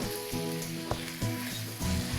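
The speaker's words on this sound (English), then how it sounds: "let's continue by adding our mushrooms now that our vegetables are starting to saute" Vegetables and mushrooms for a vegetarian shepherd's pie sauté in a pan, a strong, continuous close sizzle broken by a few soft stirring scrapes and shifts, with no voices.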